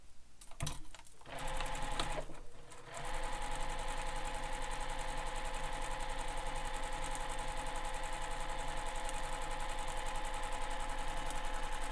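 A sewing machine stitches along the edge of a foam-padded backpack panel, running steadily and loud after a couple of seconds of brief handling noises, its mechanical hum continuing without pause.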